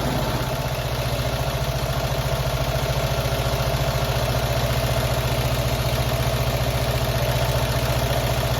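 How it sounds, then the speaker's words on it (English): A classic Fiat 500 engine idles close by, a steady, even low rumble with a fine regular pulse that holds unchanged throughout, with no talk over it. "I'm looking for around 850 when it's just at normal idle."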